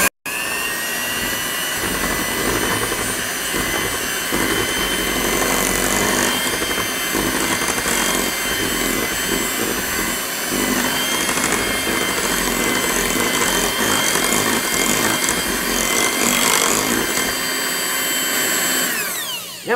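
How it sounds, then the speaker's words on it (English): An electric hand mixer beats pineapple cake batter in a home kitchen, a loud, continuous whirring motor drone that runs steadily for about twenty seconds, then cuts off, with no talk. "turn my mixer on."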